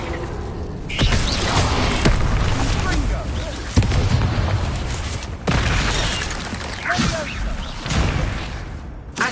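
Incendio fire spells are cast in battle in Hogwarts Legacy, heard as repeated whooshing bursts and booming blasts at intervals amid other combat effects, with character voices speaking over the action.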